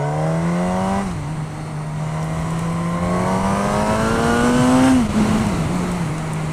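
A Suzuki GSX-S1000 motorcycle accelerating hard in first gear, with the engine note climbing steadily and a brief dip at a shift or throttle change. Loud and close, with no talk over it.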